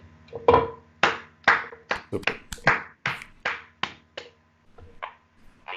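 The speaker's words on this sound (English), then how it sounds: "I would like to clap my hands" A man claps his hands in a talk-show studio, about a dozen distinct close claps in an uneven rhythm that slows and fades toward the end, with a brief spoken word among them.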